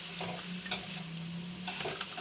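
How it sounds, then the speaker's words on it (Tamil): Soft sizzling of vegetables sautéing in a pan, with two sharp clicks of a utensil striking the pan's edge. "காய் நல்லா வதங்கி வந்துடுச்சு."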